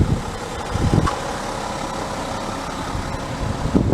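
A 2015 Porsche Cayenne diesel TDI idles with a low, steady rumble, close and even, with a few soft knocks and no voices.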